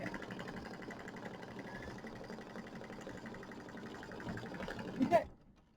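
An embroidery sewing machine stitches an applique tack-down line on a mini quilt, a rapid, steady mechanical chatter of stitches at moderate volume that stops abruptly near the end with a small clunk.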